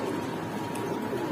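Giribaz pigeons, red-eyed and white-beaked, coo in a low steady murmur at close range, the soft calls blending into a continuous background without any talk.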